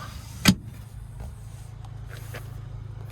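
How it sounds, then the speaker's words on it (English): Power sliding rear window on a 2026 Chevrolet Colorado Z71 pickup: a sharp click near the start, then a faint, steady low motor whir in a quiet cab. "And then sliding rear window."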